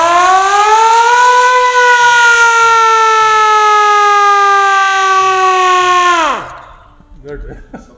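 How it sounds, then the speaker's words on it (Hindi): An emergency siren at the Golra railway station museum winds up to a loud, steady wail, holds for several seconds, then drops away sharply as it spins down, followed by faint background noise. "emergency siren"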